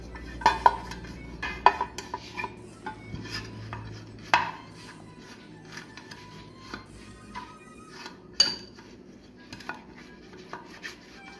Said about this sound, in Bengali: তাই আমি এটার মধ্যে একটু রিফাইন্ড অয়েল গুলিয়ে নিচ্ছি